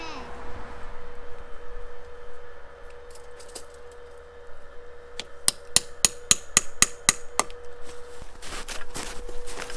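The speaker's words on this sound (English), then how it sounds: "I like the hammer." A hammer taps at maple trees being prepared for tapping in Maine, a quick run of about ten sharp, evenly spaced knocks, then scattered clinks, against a steady background hum.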